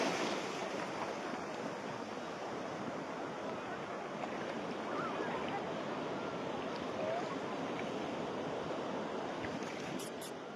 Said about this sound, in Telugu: అలలు అయితే బాగా ఇసిరేస్తున్నాయి.